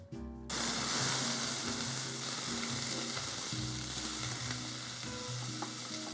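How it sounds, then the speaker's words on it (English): Vegetables sweat in olive oil in a pot for an Italian meat sauce, a steady close sizzle and crackle that starts abruptly and carries on evenly with faint clinks. "we're just gonna put a little bit of olive oil in the bottom of our pot, and we're gonna sweat out our vegetables"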